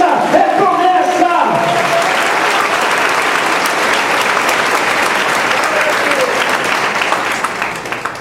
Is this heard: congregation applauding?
yes